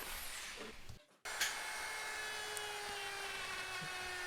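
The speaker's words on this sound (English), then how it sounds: "Here is my first time ever using a router caught on camera" A wood router cuts into a Paulk smart workbench: a steady high whining drone that drops out briefly, then resumes loud and continuous, close by, with no talk.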